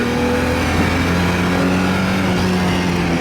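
A ute engine held at about 2,500 RPM in second gear, a loud, steady, droning hum with a slight rise partway through, close and continuous with no talk.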